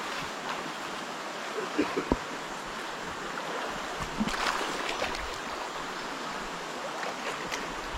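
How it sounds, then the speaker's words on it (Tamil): Loud rushing water of the Siva Kona waterfall near Rapuru in Andhra Pradesh. It is a steady, dense roar that fills the whole clip, with a few brief knocks and faint background movement. "தண்ணி சவுண்டு பயங்கரமா கேக்குது"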